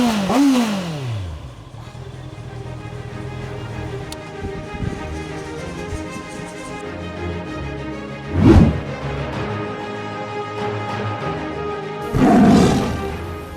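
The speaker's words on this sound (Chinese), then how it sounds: "我们来听一下四缸的声浪" A used four-cylinder motorcycle engine idles and revs, a rich exhaust note that rises and falls with a sweeping rev early on and two sharp, loud throttle blips later, close and alone.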